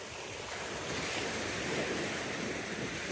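Atlantic Ocean waves break and wash steadily along Melbourne Beach, Florida, a continuous loud surf roar mixed with wind buffeting the microphone.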